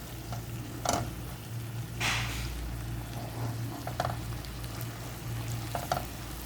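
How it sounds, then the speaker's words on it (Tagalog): Canned tuna sautéing with garlic and onion in a pan gives a steady, soft sizzle, broken by intermittent scraping and stirring strokes. "Saute our tuna so that the taste of sauteing garlic and onion will be incorporated."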